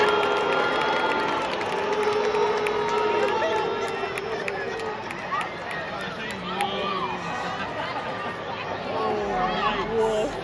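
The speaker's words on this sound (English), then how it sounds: "The booing was so bad" A large crowd of baseball fans at a Red Sox winter fan event roars with sustained booing, a dense wall of voices filling the space without letup.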